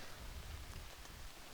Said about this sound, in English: Rain's falling, guys.